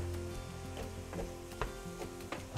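Ground beef with green pepper and onions sizzles steadily in a pan, with a few sharp scrapes and clicks of a spoon stirring through the mixture and no voices.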